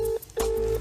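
A mobile phone on speakerphone dialing a call, giving two short, loud electronic tones separated by a brief gap, heard close with no voices.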